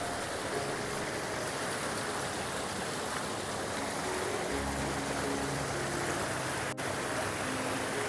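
Forceful water rushes down a stream beside a temple, a dense, constant roar that fills the scene from start to finish, close and loud with no talk over it.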